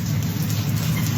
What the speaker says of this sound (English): Boy, is it pouring here this morning.